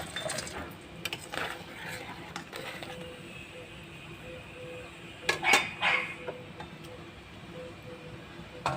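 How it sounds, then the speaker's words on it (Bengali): Fried fritters (bora) go into a pot of boiled mango, bringing quiet clinks and clatters of utensils against cookware, with a louder cluster of knocks midway over a soft background. "আমটা সেদ্ধ হয়ে গেছে, এবার বড়াটা দিয়ে দিচ্ছি।"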